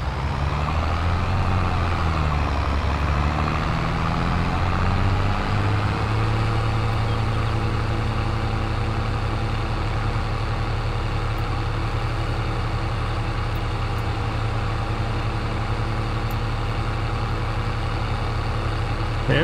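A heavy farm vehicle engine in Farming Simulator 22 drones loudly and steadily, a deep constant rumble that shifts pitch briefly early on, then holds as it drives.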